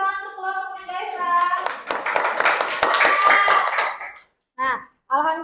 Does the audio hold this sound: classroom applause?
yes